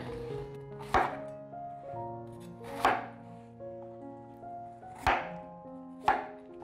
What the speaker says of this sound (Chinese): 把心切掉， 把苹果切片